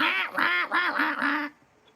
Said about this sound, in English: Y'all heard them ducks in the background right now.